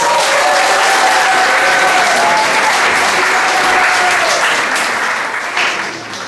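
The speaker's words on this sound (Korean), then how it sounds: "박수로 부탁드립니다." Audience applause at a church ceremony marking the founding of a memorial hall for Australian missionary history in Jinju, a loud steady clapping that carries on for several seconds before fading slightly at the end.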